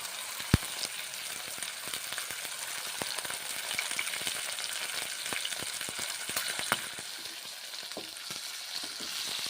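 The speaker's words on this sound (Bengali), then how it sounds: "তারপর ভেজে নিচ্ছি, মটরশুঁটি দিচ্ছি" Green peas and spices sizzle steadily in hot oil for a vegetarian paneer curry, a dense continuous crackle with scattered spoon taps against the pan, close and alone without talk.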